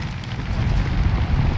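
Airplane engine in the video game Far Cry 5, a steady loud low drone with rushing wind noise running throughout, no talk over it.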